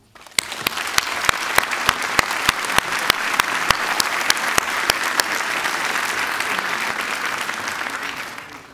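Loud, sustained applause fills the hall at a New Year's greetings ceremony, a dense wash of clapping from a large audience with sharper individual claps standing out, holding steady for several seconds before tapering at the end.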